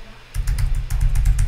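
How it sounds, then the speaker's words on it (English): Rapid, close typing on a computer keyboard, two quick bursts of keystrokes with a short pause between. "I'm just typing in random numbers."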